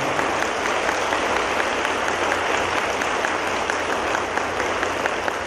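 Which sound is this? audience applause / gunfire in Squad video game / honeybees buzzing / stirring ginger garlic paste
audience applause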